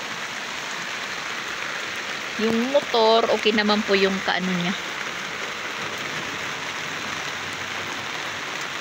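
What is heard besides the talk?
rain falling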